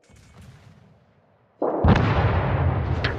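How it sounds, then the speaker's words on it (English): Naval guns firing in a World of Warships clan battle: a faint rumble, then a sudden loud booming salvo that rolls on with a sustained roar, no talking. "All stations, concentrate fire on the target."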